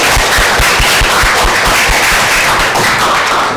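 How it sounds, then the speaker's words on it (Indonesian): Classroom of students applauding together, a dense steady wash of many hands clapping at close range, loud and continuous without talk. "Oke, tepuk tangan untuk kita semua."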